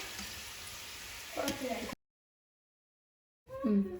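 Wheat flour gavvalu sizzle as they fry in oil for a second time, giving a soft steady crackle. The sizzle breaks off into silence and then returns with a brief louder bubbling burst.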